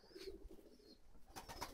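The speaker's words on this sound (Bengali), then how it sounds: "এই যে দেখেন চালের উপরে আমাদের লক্ষা কবুতরটা" Lakka pigeons coo softly in the distance from a rooftop, a few low murmuring calls, faint against quiet background noise.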